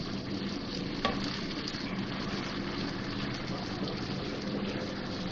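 Chickpea and potato gravy frying and bubbling in a pan while being stirred, a steady, fairly quiet sizzle with a single faint tap of a utensil.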